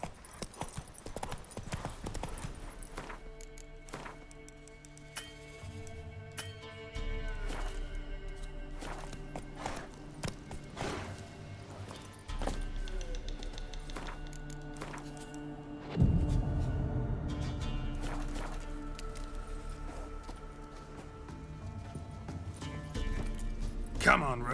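Roach the horse trotting along in The Witcher 3, a steady run of clip-clop hoofbeats close by, with voices of people talking over parts of it.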